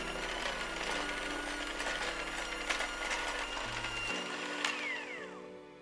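Hand mixer whirring steadily through sugar cookie ingredients, including vanilla extract, in a large mixing bowl, with a continuous motor hum and rattling beaters that drop in pitch near the end.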